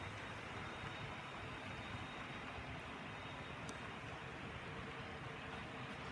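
A throttle-controlled model railroad train runs eastbound around a layout, giving a faint, continuous mechanical rumble and whir that stays even throughout with no talking.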